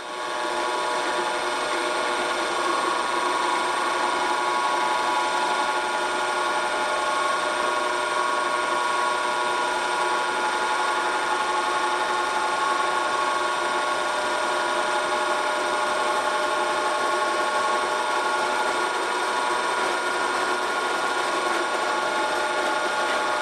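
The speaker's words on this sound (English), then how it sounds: "what we're going to do first is we drill a pilot hole first" A continuous, dense grinding and whirring of a power drill boring a pilot hole into wood, steady and loud with no pauses or talk.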